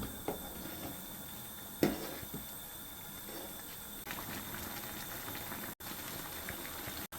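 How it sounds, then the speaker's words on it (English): Pre-made tapioca pearls boiling in coconut milk with dissolved sugar in a pot: a constant close bubbling and gentle sizzle with a few soft knocks, running steadily with no talk. "Pre-made tapioca pearls starting to boil."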